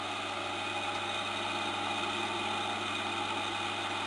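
A free-energy BTG electric motor-generator idles at around 920 to 980 rpm, producing a steady, unbroken electrical hum with a strong low tone that stays level from start to finish.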